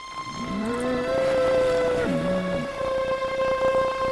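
Cattle moo in a long, loud, drawn-out call that rises and then bends lower partway through. The moo is close and clear, with no other sounds over it.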